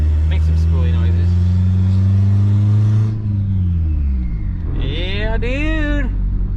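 A turbocharged Honda Civic engine drones steadily at low pitch while driving, then the revs drop and rise again with a whining sweep near the end. People talk over the engine noise.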